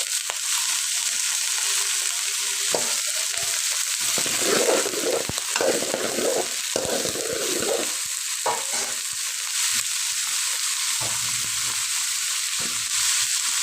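Mixed vegetables sizzle and hiss continuously in a hot pan while a spoon stirs them, scraping and clattering in irregular bursts against the steady frying noise.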